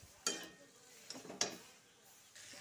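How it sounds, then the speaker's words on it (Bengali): Spices with chilli paste, ginger paste and sliced pointed gourd being stirred in a pan, giving a few scraping clinks of the spoon against metal over a quiet frying sizzle, with two or three sharper strokes spaced apart. "আবার ভালো করে লাড়াচাড়া দিব।"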